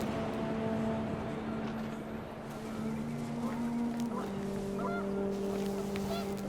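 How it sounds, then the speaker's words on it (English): Geese honking in the video game What Remains of Edith Finch, sustained nasal honks overlapping and shifting in pitch over a windy outdoor backdrop, loud and continuous. "The wind picked up and panicked geese appeared and quickly went"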